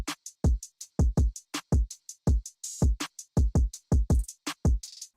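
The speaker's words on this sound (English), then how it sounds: "Let's not forget the drums." Drum pattern for a music beat: punchy low kicks paired with crisp, bright hits in a steady, busy rhythm, loud and alone with no voices.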